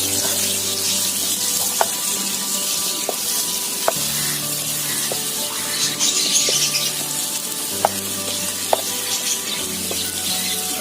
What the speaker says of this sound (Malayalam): കുറച്ചും കൂടെ എണ്ണ ഒഴിച്ച് കൊടുക്കാം. സവാള ഒന്നങ്ങോട്ട് വാടി തന്നെ.